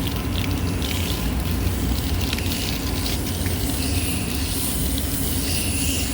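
Water sprays and rinses steadily across a dirty split AC condenser coil during cleaning, a continuous loud hissing gush with no pauses.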